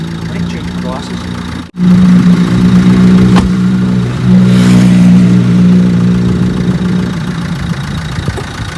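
A car engine, started after a jump start once the car had sat unused for a long time, idles steadily and loud up close with a low hum. Briefly cut out near the start, then it runs on under speech.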